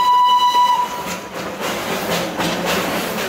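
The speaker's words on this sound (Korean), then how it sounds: "증기기관차를 타고 다르질링 시내 관광에 나섰다." A Darjeeling Himalayan steam locomotive sounds a loud, steady whistle for under a second, then the train rumbles and hisses along with rhythmic chuffing bursts, close by.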